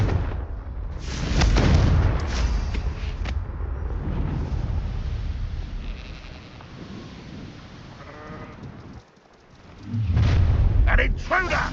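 Confringo fire spell in the Hogwarts Legacy video game bursts into loud booming explosions near the start and again near the end, with rumbling game noise between them and voices talking over it.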